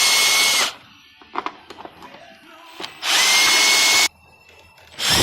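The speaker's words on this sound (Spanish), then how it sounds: "o con su taladro" A power drill whines loudly while removing screws from the cover of a Ryobi 2000 psi pressure washer, two long bursts separated by quiet clicks and small handling taps, then a third burst begins.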